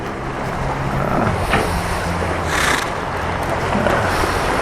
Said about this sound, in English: We've got a rough sea and that's a jetty playing up.